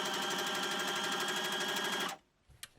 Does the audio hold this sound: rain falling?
no